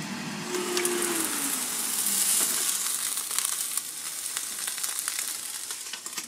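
Meat sizzles steadily on a CHEFREE AFG01 smokeless indoor grill and air fryer as it is turned over, a continuous close frying hiss with crackles and brief scraping clatter from the flip.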